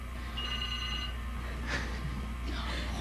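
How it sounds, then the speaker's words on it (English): Telephone bell ringing in a repeated burst with a steady tone, heard at moderate level over a low background hum and some indoor noise. "Pick up the phone."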